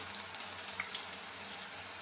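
Thick strands of sev made from a spinach chickpea-flour dough fry in hot oil with a faint, steady bubbling sizzle and a couple of tiny pops.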